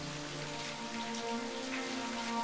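Steady rain patters and hisses on surfaces, a continuous even wash of sound with a faint low hum beneath.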